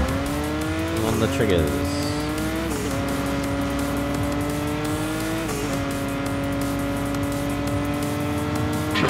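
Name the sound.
toy car accelerating in video game Hot Wheels Unleashed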